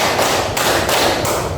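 Students in a classroom clap in unison during a rhythm drill, a few sharp collective bursts sounding loud and near with a crowded, slightly ragged texture.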